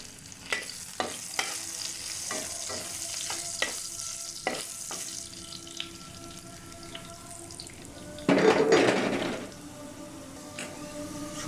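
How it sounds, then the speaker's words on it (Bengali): Garlic and dried red chillies fry in oil in a pan, a soft continuous sizzle punctuated by sharp scraping stirs, with a brief louder burst of sizzling partway through; no one speaks. "রসুনটা ভাজা হতে হতে আমি একটু শুকনো লঙ্কাটা ভেজে নেব।"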